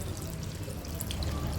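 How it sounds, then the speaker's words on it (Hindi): Water pours steadily into a pot of tender chicken pieces and vegetables, a continuous close splashing gush that runs without a break and with no talking. "अब हम इसमें इस मौके पर डालेंगे पौना लीटर 800 ml पानी"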